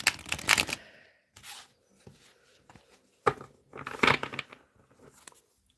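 Playing cards being shuffled in several quick bursts, crisp riffles and flutters close by, separated by short pauses.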